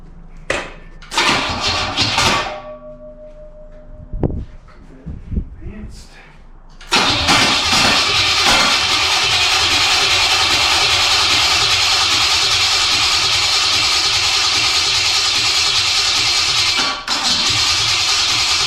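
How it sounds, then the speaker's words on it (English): An engine being test-started on a garage floor cranks on its starter motor in a few rough bursts. It then catches and roars into a loud, steady run that continues to the end. "That's just the starter about to fall off."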